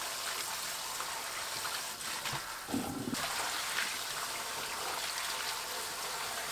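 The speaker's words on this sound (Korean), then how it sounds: "깨끗하게 여러 번 씻어주세요." Fresh spinach being washed under running water in a kitchen, a steady broadband rush of tap water and splashing with a brief shift in the stream midway, close and continuous.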